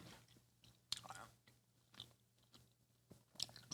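Wet, soft chewing of food that isn't crunchy, close and quiet, with a few sharper bite clicks under a low steady hum.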